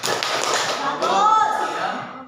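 Schoolchildren in a classroom clapping together in a rhythmic group clap, close and fairly loud, with an adult voice talking over part of it.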